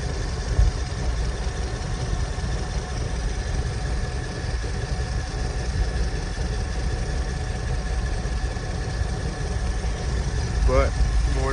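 Rusty 2007 Dodge Ram 1500 pickup with 190,000 miles, suspected header leak, idles with a steady low engine rumble and faint ticking throughout, with a few brief knocks near the end.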